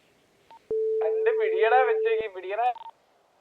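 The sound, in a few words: phone call dialing in GTA roleplay video game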